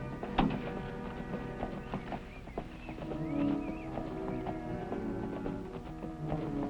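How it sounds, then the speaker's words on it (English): Irregular clip-clop of horse hooves on a road, fairly close, with a steady low background rumble. "Them's horses coming up the road."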